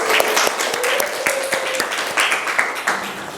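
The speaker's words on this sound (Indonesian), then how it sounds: "Beri aplaus untuk kelompok 4." A classroom group applauds group 4 with a short burst of scattered hand clapping close by. A voice talks over it.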